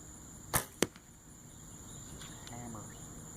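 An arrow fired from a Ben Pearson Colt 62-inch, 45-pound traditional bow strikes a target, giving a sharp release snap and a solid thunk a moment later, then quiet outdoor ambience with insects.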